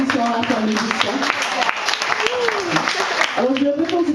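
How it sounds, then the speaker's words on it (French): Audience applause at a French variety show honoring a family, steady clapping under a voice speaking throughout. "Applaudissons à la famille Justin."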